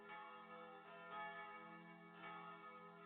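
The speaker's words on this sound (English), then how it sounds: "that is the sound of the lunch bell" A bell rings out for lunch with a sustained, resonant tolling tone, faint and steady, swelling slightly with each strike in a fantasy setting.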